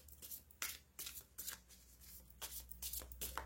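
Playing cards are handled and drawn in a card-reading spread, giving a series of soft, brisk shuffling and sliding flicks at a quiet, close level with no talk.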